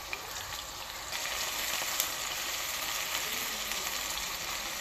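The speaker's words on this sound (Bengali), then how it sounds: "পেঁয়াজটা ভালো করে ভেজে নেব।" Chopped onions frying in a pan for a spicy chicken curry, a steady close sizzle running alone throughout with faint occasional stirring ticks.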